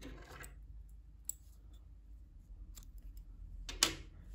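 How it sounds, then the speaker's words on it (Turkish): Scissors snip through knitting yarn at the end of a row, a couple of faint, brief cuts near the start and a sharper single snip toward the end over quiet room noise. "İpliği burada kesiyorum"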